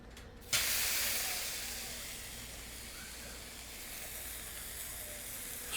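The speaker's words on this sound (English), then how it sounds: "We're going to let it sear real good on that side." Ribeye steak searing in smoking oil on a Yoder YS640 pellet grill, a steady close hiss and sizzle that bursts in loudly after a short quiet start and holds without a break.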